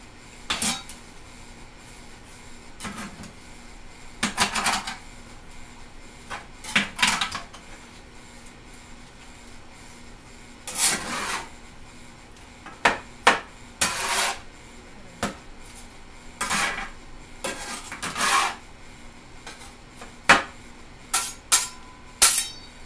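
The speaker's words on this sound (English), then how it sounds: "I'm just going to mix my meat up a little bit with it" Ground meat being mixed by hand in a bowl for a bacon cheeseburger pizza, giving irregular bursts of clinking and scraping against the bowl, fairly close, with quiet gaps between the bursts and no talking.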